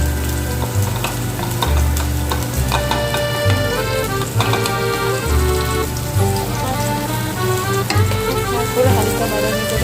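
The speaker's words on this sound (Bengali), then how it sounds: "তারপর হালকা বাদামি করে ভেজে দেবো।" Chopped onions and green chillies frying in a pan for a beetroot fry, a loud, steady close-up sizzle that continues throughout under background music.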